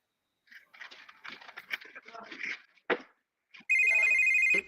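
A telephone rings loudly near the end, a sustained electronic trill after a stretch of muffled voices and a sharp knock.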